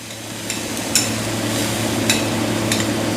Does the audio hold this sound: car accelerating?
no